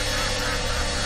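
Ducks in the video game Anatidaephobia let out a loud, harsh, continuous honking quack, close and unbroken for a brief moment.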